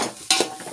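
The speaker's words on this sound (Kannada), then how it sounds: "ನೋಡಿರಿ ಎಲ್ಲ ಸೇರಿಸಿ ಸ್ವಲ್ಪ ಫ್ರೈ ಆಗ್ಬೇಕ್ರಿ" Soybean pulao stirred in a pan: a quick scrape of a spoon and a soft sizzle of frying, brief and close.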